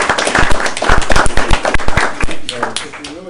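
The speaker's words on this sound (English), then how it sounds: "And now you can applaud." Committee meeting audience clapping in a short burst of close, sharp applause, with a voice speaking over it near the end.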